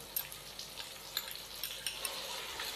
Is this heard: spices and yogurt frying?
yes